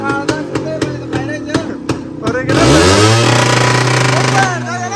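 Voices talk over a low hum, then a scooter engine revs up close and keeps running loud and steady to the end.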